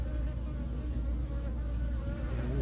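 Dense, steady buzzing of a honeybee colony at the hive, a continuous close drone with no talking.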